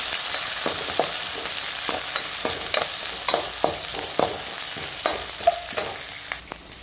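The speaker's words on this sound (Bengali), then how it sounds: "দিয়ে দেবো একটু আদা কুচি, দিয়ে দেবো পেঁয়াজ কুচি, দিয়ে দেবো কাঁচা লঙ্কা কুচি, দিয়ে একটু নাড়াচাড়া করে দেবো।" Chopped ginger, onion and green chili fry in a pan under a steady, bright sizzle, broken by the soft scrapes and clicks of stirring, with no talk.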